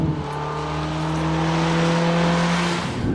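A 2011 Mitsubishi Outlander Sport's engine drones loudly and continuously from inside the cabin, its tone rising slowly as the vehicle accelerates.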